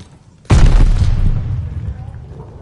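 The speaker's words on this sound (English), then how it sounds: "Incoming grenade!" A grenade going off in a video game: a single loud, close boom that hits suddenly and then rumbles away over the next second or two, with game noise underneath.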